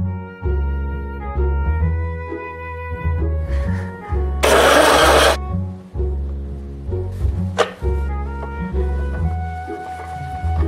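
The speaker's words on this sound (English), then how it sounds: "This is Emily Yeung turning on a blender." A blender whirs in a brief loud burst during bubble tea preparation, standing out against steady background music.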